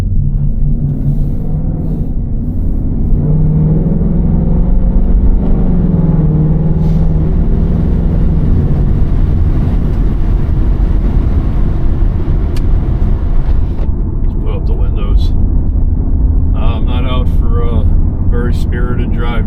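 A car engine rumbles loud and steady through a brisk, spirited drive on a chilly day along Highway 215 toward the Blue Ridge Parkway, holding a continuous low drone with a few brief revving surges near the end.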